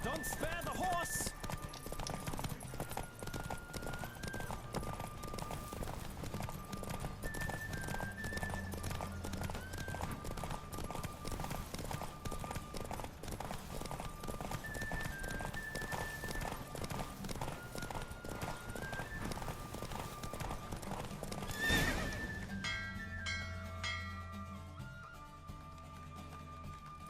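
Galloping horse in a Witcher 3 horse race, steady rapid hoofbeats with occasional neighs under game music, then fading out near the finish.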